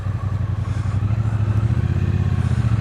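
Close, loud, steady engine drone of a 2024 Triumph T120 motorcycle pulling away on a ride, with a pulsing exhaust beat and faint clatter underneath.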